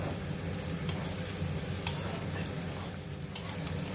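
Egg and prawn fried rice mixture with cashews and raisins stirred in a hot pan, giving a soft continuous sizzle with a few sharp spatula scrapes against the metal, quiet and close with no talking.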